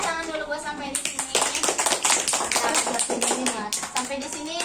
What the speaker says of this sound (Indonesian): Oke, tepuk tangan dulu buat sampai di sini.